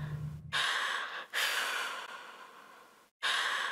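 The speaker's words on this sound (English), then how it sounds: "He's breathing a little bit hard there." Heavy, rasping breaths from a character in the video game Happy Game, several long loud gasps and exhales separated by brief silent pauses, close and alone.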